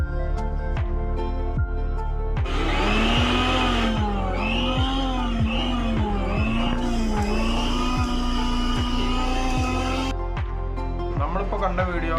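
Kitchen mixer grinder running after its push coupling was replaced to cut noise: a steady motor whine with regular ticking, rising into a louder, higher-pitched grinding surge for several seconds before dropping back.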